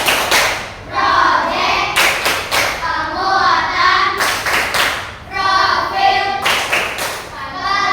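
A class of children performs a rhythmic hand-clap routine, bursts of sharp, loud clapping in patterned groups alternating with a voice and a teacher speaking between the sets.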